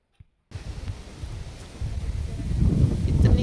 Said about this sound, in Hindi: इतनी ज़्यादा तेज़ हवा चल रही है, आंधी तूफान वाली